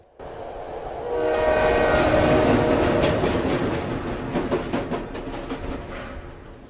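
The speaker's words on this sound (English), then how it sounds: "another train horn can once again be heard blasting off in the distance" A train horn blasts in Silent Hill 3 with long sustained tones that swell and then fade, over the rhythmic clatter of rail cars rolling along the tracks.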